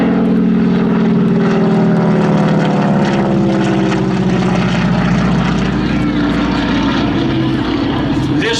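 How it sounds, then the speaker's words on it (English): A loud, steady roar of a warbird's radial engine and propeller at an airshow, with a deep throbbing drone and buzzing harmonics, sustained throughout. "Now let's listen to the engine and propeller on this airplane."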